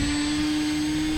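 An RC model airplane engine holds full throttle for takeoff, a loud, steady high-pitched whine with no change in pitch over a brief stretch.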